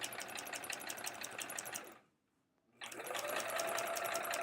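A sewing machine stitches metallic thread on an hourglass quilt block, running in a steady fast whir, stopping briefly, then starting again.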